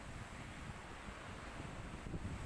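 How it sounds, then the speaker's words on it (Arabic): Strong wind roars across the Sidi Bishr beach in Alexandria on a stormy day with high waves, producing a constant rushing buffet against the microphone and blending with the surf. "الدنيا هوا وعواصف"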